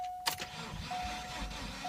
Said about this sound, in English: I'm hoping that when I turn this key, the engine cranks over